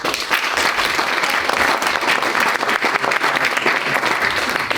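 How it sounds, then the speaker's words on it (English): An audience at a town candidates' forum claps steadily for about five seconds after a candidate is introduced, dense and even applause with no pause. "You can actually clap after I introduce the candidates."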